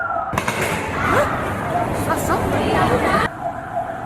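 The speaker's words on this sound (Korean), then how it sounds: "무장 경찰을 태운 차량은 사이렌을 울리며 다른 장소로 향합니다" A siren wails from a vehicle carrying armed police during a nighttime street protest. It sounds loud and continuous beneath a news narrator's voice, with crowd noise around it.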